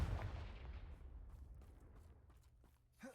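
A Confringo fire spell blast in Hogwarts Legacy: a sharp booming burst up front that rolls off into a long, decaying rumble, with a faint second hit near the end.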